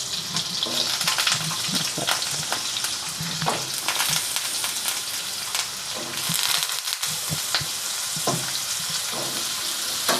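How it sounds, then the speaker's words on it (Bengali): Cubed potatoes and pointed gourd sizzling in hot oil in a pan, a continuous close crackle broken by scraping stirs of a spatula, with no talking. "ছটপটালে আমি একটু সবজিগুলোকে ভেজে নেব। হালকা করে ভাজবো, খুব বেশি ভাজবো না।"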